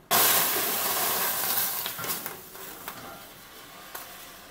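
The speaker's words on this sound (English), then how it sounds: "I have some water I was boiling, and I'm going to go ahead and dump that in this pan." Boiling water dumped into a hot pan in an oven for baking homemade bread bursts into a loud steaming hiss and sizzle that slowly fades, with a few light clinks as it settles.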